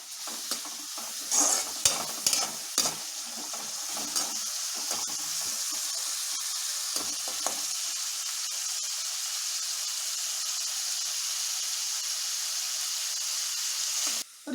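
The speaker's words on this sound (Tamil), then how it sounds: "பெரிய வெங்காயத்தை வந்து நம்ம நல்லா வதக்கிக்கணும்." Onions sauté in hot oil in a pan, giving a steady sizzle throughout, with scraping stir strokes early on that fade into continuous frying hiss.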